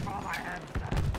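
Bursts of machine gun fire ring out in a video game firefight, sharp rapid shots mixed with game noise while players talk and shout over them.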